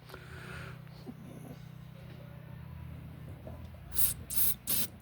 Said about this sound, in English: the carb spray coming out of this hole and this hole